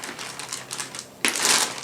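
A cable tie snipped while unboxing an ADJ InnoScan LED light, heard as crinkly packaging rustle followed by a sharp, louder burst of plastic crackle near the end, close to the mic.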